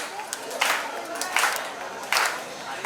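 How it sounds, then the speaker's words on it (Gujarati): A crowd at a Jain religious gathering claps together in rhythm, several bursts of clapping rising and falling over a few seconds, fairly close with a murmur of voices beneath. "એક સાથે બધાની તાળી."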